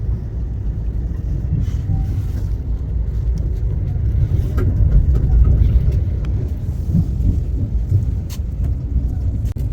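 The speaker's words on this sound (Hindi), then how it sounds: "जनहित एक्सप्रेस के उस तरफ जो गाड़ी गई थी वो थी LTT पाटलिपुत्र एक्सप्रेस।" The LTT Patliputra Express passes alongside on an Indian railway line, a loud, steady low rumble with faint clacks and rattles running continuously, heard from aboard a nearby train.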